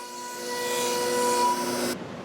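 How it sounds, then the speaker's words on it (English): A CNC machine mills recessed pulls into wood with a steady, close grinding rasp and faint whining tones. It cuts off abruptly near the end. "We're just milling these on the CNC to save time for this demonstration."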